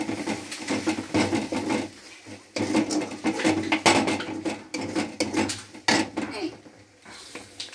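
Chicken pieces being stirred with salt and turmeric in a pan give off scattered scraping and clinking of a spatula against metal, close by, in uneven bursts with brief pauses between strokes.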